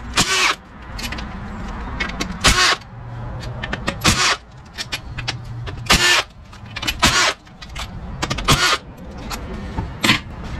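A wrench on a 42RE transmission removes the six half-inch bolts from the front pump during teardown, with repeated bursts of ratcheting clicks separated by short pauses and bench clatter.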